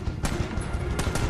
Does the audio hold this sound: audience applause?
no